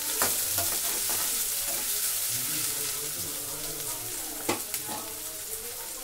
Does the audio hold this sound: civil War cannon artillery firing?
no